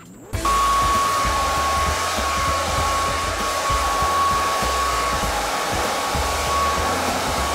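A hair dryer blows steadily and loudly while drying hair, a continuous whooshing roar with a thin high whine held throughout, alone with no voices.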